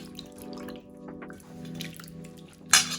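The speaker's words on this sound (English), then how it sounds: "I'm washing off the excess starch. Cold water. Gotta be cold water." Cold water running and splashing while potato slices are rinsed of starch, a thin trickle with light drips and small splashes, steady and close, ending in a brief louder splash.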